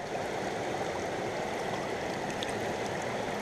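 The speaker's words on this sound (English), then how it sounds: "The sluice looks like it's running really, really well at the moment." Water rushes steadily through a gold prospecting sluice outdoors in the UK, a continuous close stream-like wash without pauses or voices.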